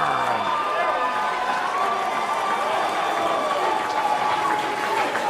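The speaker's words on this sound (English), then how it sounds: "that has brought the raucous crowd here in Joppa to their feet" A raucous crowd at a live wrestling event in Joppa roars and cheers on its feet, a dense, loud, sustained wall of crowd noise filling the whole stretch.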